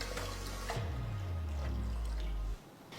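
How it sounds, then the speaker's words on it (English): Water runs from a tap into a cooking pot for boiling noodles, a steady close pouring rush whose pitch rises as the pot fills, stopping near the end. "take enough water to a pot"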